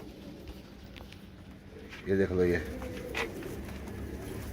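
Kanto wale teddy pigeons with feathered feet coo in a short, throaty burst midway, close by, while someone talks over them in the foreground.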